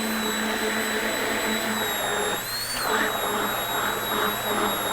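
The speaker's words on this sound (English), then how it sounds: "I'm gonna blend these very nicely." Blender mixing cheese bread batter in a home kitchen, a loud steady motor whir with high whining tones held for the whole stretch, briefly straining and shifting pitch near the middle.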